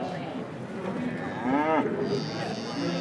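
An Australian Lowline heifer moos once, a clear drawn-out bellow at a show ring for small cattle breeds, rising over a low crowd murmur.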